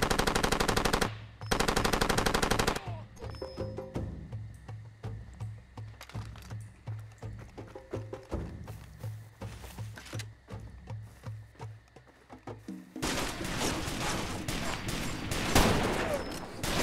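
Gunfire in the first-person shooter Far Cry 2: loud automatic bursts open the scene, followed by scattered single shots and sporadic reports in an outdoor setting, ending in another dense barrage of fire.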